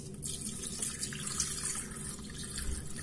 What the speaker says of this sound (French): Je vais mettre un petit fond d'eau